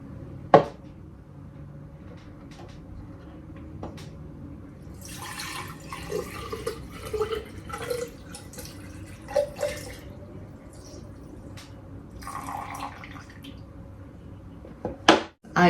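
Distilled water is poured into a vase holding plant roots, giving intermittent splashing and trickling between soft knocks and handling sounds, close by and quiet.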